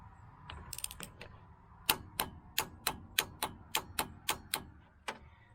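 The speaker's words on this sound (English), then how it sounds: "Now we got to tighten the upper to 69 foot-pounds." A torque wrench ratchets while tightening the upper ball joint on a Ram 2500 diesel 4x4, making about a dozen sharp, evenly spaced clicks, close and clear over a quiet background.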